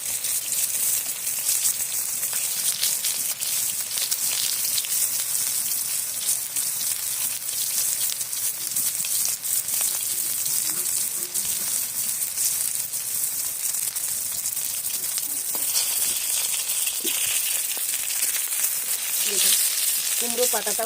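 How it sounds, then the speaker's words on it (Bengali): Hilsa fish wrapped in pumpkin leaves as paturi fries in oil in a pan. The oil gives a close, continuous sizzle and hiss, with small crackles throughout. "এবারে ভেজে নেবো"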